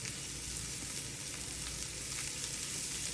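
Onions frying in a pan give a steady, soft sizzle with faint crackles throughout and no voices.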